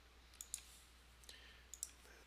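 A few crisp, quiet mouse clicks in pairs while working in Google Docs on a computer, isolated against a near-silent background with no speech.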